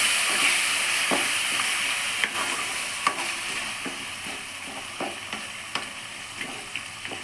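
Urad dal, cashews and green chilies fry in oil for curry leaf rice, a steady loud sizzle throughout with small clicks of stirring scattered across, no talking.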